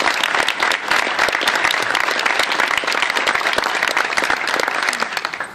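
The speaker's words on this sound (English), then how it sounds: "let's give a round of applause to all the legislators who are here" A room of people applauds the legislators at a New York bill signing for mixed martial arts, with dense, steady clapping filling the whole stretch at a strong, even level.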